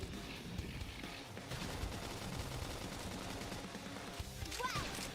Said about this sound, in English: Knock him over with gunfire.